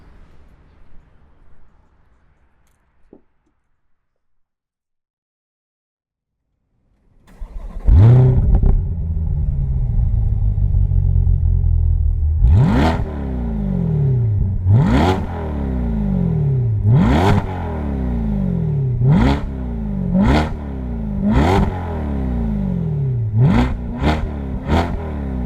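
A 2020 Chevrolet Corvette C8 mid-engine car cranks into a loud, close idle after a few seconds of quiet, then gives a series of sharp, repeated revs that flare up and fall back.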